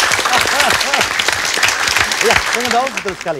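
A studio audience at an Indonesian TV music quiz show claps steadily and loudly for a band, with the clapping continuing under a host's speech.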